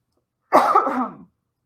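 A single short, close cough with a raspy, throaty quality, alone in silence.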